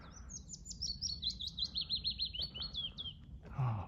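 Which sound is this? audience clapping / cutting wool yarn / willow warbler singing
willow warbler singing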